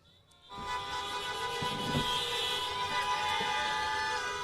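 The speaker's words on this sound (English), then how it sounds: "honk those horns" Several car horns blare together in a sustained, loud chorus that swells in abruptly and holds steady, overlapping tones blending into one continuous honking wall.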